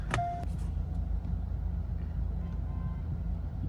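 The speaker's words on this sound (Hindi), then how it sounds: "और ये एज यूजुअल शाम का ट्रैफिक" Steady low road rumble inside a Kia Seltos X-Line during evening traffic on a Pune to Sambhaji Nagar highway trip, a short tonal honk near the start, then continuous engine and tyre drone throughout.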